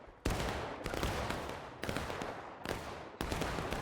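Loud volleys of musket-style gunfire in an online multiplayer war game, a crack roughly every half second to second, each with a ragged booming tail, repeating over about four seconds with no talk.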